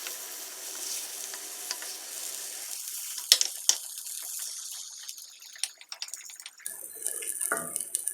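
Brinjal sizzling in a pan for a brinjal curry, a steady close fry with scraping stirs and a couple of sharp clinks partway through, no talking.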